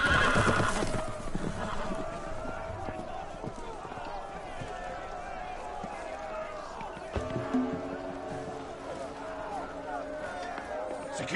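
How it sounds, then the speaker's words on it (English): Loose horses neighing loudly with hooves clattering as they run, with voices shouting over the commotion in a tense medieval-style game scene. "The horses! They're loose!"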